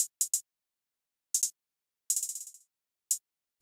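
A sparse electronic hi-hat pattern plays alone, crisp and bright. A few single hits and quick doubles are broken by gaps, plus one short rapid roll.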